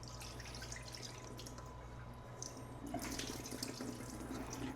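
Buttermilk drained off homemade butter, a steady liquid pour and trickle into a sink, with a continuous running-water wash and a louder splashing surge partway through.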